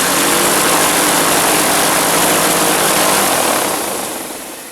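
An airboat engine with a Holley carburetor runs at idle, a loud, close, steady broadband roar with propeller-like rumble that eases off near the end.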